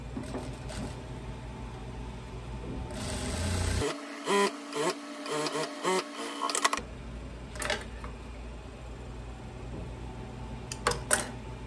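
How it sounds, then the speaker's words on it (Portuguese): A sewing machine runs a finishing seam on a viscose dress, pressing the binding down, in a steady mechanical whir with short stops and starts, close under a constant background hum, no talking. "E faz aquela costura de acabamento aqui, ó, rebatendo esse debrum pra baixo"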